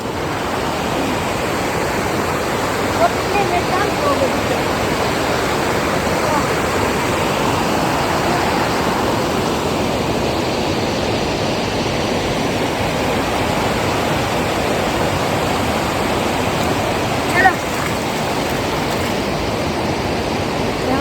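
River water in a Chitral valley rushes and crashes against rocks, churning up foam, in a continuous loud roar of white noise, unbroken throughout.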